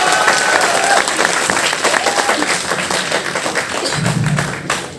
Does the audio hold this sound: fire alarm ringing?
no